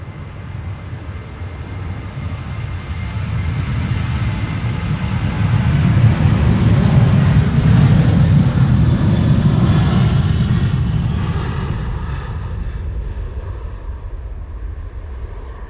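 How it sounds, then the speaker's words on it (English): A Ryanair Boeing 737-800 departing Amsterdam Schiphol on a flight to Dublin, a loud broad jet-engine roar that swells to a peak midway and then slowly fades as the aircraft climbs away. "This is Ryanair, flight 3101 to Dublin, Ireland. A 737-800 EIENG."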